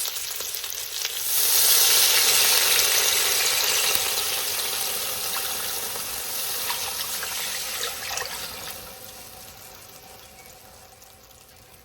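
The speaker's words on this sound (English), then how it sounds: "I'm going to add in a quart of our bone broth right now, which is four cups." A quart of bone broth poured into a hot casserole pot for green chili casserole with pork sets off a loud hissing rush that swells, holds, then gradually fades.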